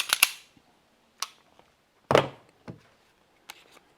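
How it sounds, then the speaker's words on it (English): Several sharp gunshots ring out at irregular intervals from another shooter, fairly distant and echoing, with quiet gaps between them. "so you may hear some of his shooting going off too"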